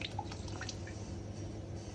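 Water drains from a rusty Honda C70 fuel tank through its loosened hose, a close, steady trickle broken by small drips, with no voices.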